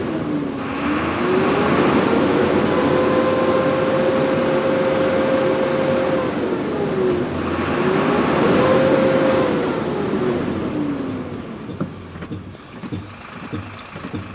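Heavy tronton truck engine revving repeatedly as the accelerator is blipped and the clutch worked, two long rising-and-falling rev swells followed by a lower idle with irregular rattles, loud and close with no talking.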